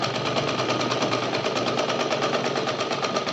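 A sewing machine stitching a dhoti salwar runs steadily and close, its fast even needle chatter and motor whir continuing without pause.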